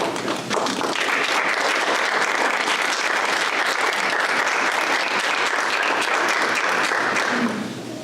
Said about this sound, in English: Turn to applaud your family members and your friends who have supported you in so many ways.